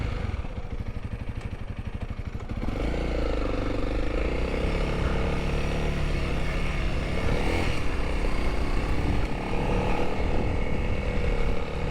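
A Yamaha XT250 dirt bike rides laps: a continuous engine drone with rising and falling revs and a rough, buzzy tone throughout, recorded from the rider's position with wind noise.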